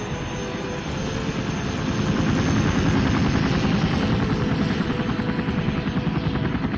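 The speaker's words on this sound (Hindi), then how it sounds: "ये हेलीकॉप्टर कहाँ जा रहा है?" A helicopter's steady, loud rotor chop and engine roar continue throughout, swelling slightly as it draws nearer, with no voices.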